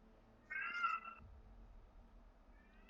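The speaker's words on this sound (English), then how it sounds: "that is the sign that my cat is decided for some oddball reason to be what Jackson Galaxy would call a chatty catty." A pet cat gives a single clear, mid-length meow from nearby, rising then fading over about half a second against a quiet room, followed by faint low rustling.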